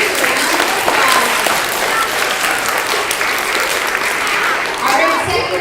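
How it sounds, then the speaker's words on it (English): An audience at a library event applauds second graders, a loud, steady, close burst of many hands clapping that carries through the whole stretch, with a few voices underneath. "let's give all of our second graders a round of applause."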